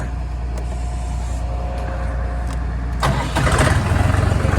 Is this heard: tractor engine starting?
yes